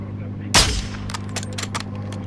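Gunfire in the video game Call of Duty Warzone 2: one loud, sharp shot with a booming tail, followed by a series of quicker, lighter cracks of distant shots.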